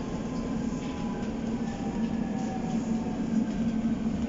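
Milan M4 metro train running on its line, a steady low rumble with a persistent hum and faint rail squeal, continuous and close, with no voices.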